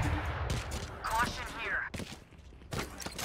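Phantom rifle gunfire in Valorant, sharp bursts of rapid shots in short clusters separated by brief gaps, with a player's voice talking over parts of the shooting.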